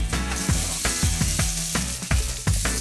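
Steady sizzling of onion frying in melted butter in a pan, with a hiss that runs throughout and repeated low clunks and scrapes of stirring.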